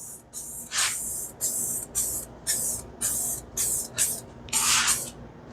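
Aerosol spray can coating a square body Chevy truck door panel, about nine short hissing bursts in quick succession, close and crisp, with brief gaps between each spray.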